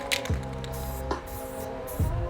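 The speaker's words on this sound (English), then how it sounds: "It doesn't want to spray." A Project Source spray paint can sputtering through a clogged stock tip, giving three short uneven hissing spurts with gaps between them over a low background hum.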